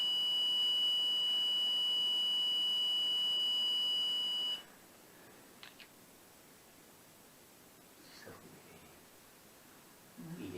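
A detector's electronic alarm in the basement of an abandoned train station gives a loud, steady, high-pitched tone for about four and a half seconds, then cuts off, leaving quiet room tone with faint rustles.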